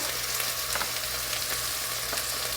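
Onions sautéing in a hot pan give a steady, close sizzle with a continuous crackling hiss and no talk over it.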